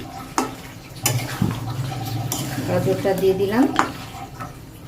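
Carrots being sautéed in a home kitchen pan, with a utensil scraping and clinking against the metal in irregular strokes over a low sizzle, close and moderately loud.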